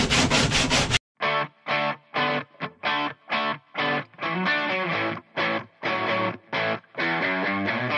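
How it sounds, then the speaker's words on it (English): Rough edges of a 1984 Coleman scanoe being sanded: about a dozen loud, close, rhythmic back-and-forth rasping strokes with brief gaps between them. "I'm gonna try to sand all these rough edges down"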